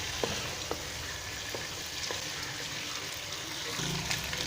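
Oil sizzles steadily as masala roasts in a pan for chicken white karahi, a dense continuous frying hiss with faint spoon taps, close and even throughout.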